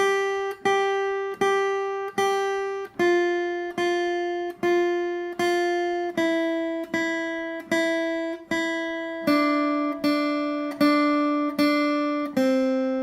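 A guitar plays a steady sequence of picked single notes, each struck cleanly and ringing briefly, moving gradually through pitches at an even rhythm.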